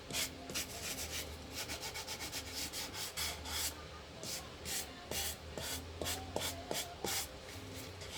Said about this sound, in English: A little sanding in the gentle kind of way.